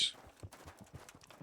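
Horse hooves clip-clopping in the video game Kingdom Come: Deliverance, a steady quick rhythm of soft thuds, fairly faint, with a bright chime at the start.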